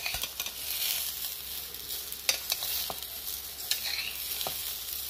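Half-boiled vegetables and masala roast in a pan for vegetable biriyani, a soft continuous sizzle broken by scattered crackles and pops as the mix is stirred, close and fairly quiet, with no talk.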